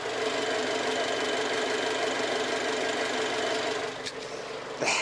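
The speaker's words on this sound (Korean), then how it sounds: "바로 엔진 소리 한번 들려드릴게요." A 2019 gasoline four-wheel-drive imported SUV engine idles with a steady, even hum and faint ticking, then a couple of brief clicks and a soft thump near the end.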